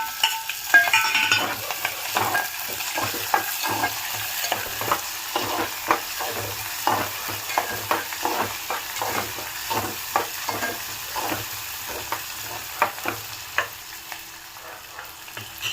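Peanuts, onions and chillies sizzle steadily in a hot pan for upma while a spatula scrapes and stirs in repeated strokes, close and without talk.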